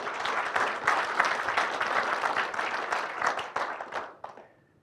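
Conference audience gives a sustained round of applause, dense and steady for about four seconds before tapering off into near silence.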